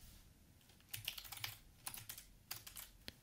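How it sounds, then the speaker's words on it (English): Keys tapped on a computer keyboard in short bursts of clicks, quiet and close, with pauses between clusters and no speech. "Let's type in footer alpha."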